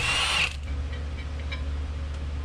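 A ratchet clicks briefly while backing out bolts holding the power steering pump of a 1978 Ford F100, a short burst of rapid ratcheting near the start over a steady low hum.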